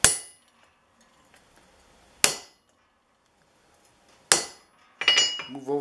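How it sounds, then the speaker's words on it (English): Three sharp, ringing hammer strikes on a straight metal bar held against a metal plane's lateral adjustment lever resting on an anvil, spaced about two seconds apart, followed by a brief burst of scraping and clinking. "Got my straight piece of metal, lining it up on the lateral, and some firm hits with the hammer."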